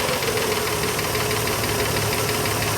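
A 1959 Ford Galaxie engine runs steadily close by, a loud, dense, continuous knocking rumble with no pauses.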